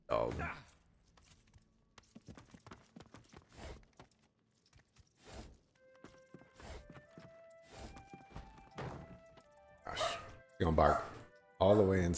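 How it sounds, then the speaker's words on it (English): A dog barks in Divinity: Original Sin 2, sharp separate yelps and barks spread over the stretch among footsteps and game sounds, with a tonal musical passage midway and louder bursts near the end. "Dog don't know what it's barking at."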